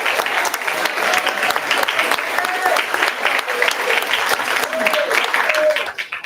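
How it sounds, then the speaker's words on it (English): An audience at a youth demo day event claps steadily for Harvard College, a dense, continuous wash of applause that holds at a fairly even level throughout, with a few voices faintly mixed in. "give a round of applause for Harvard College"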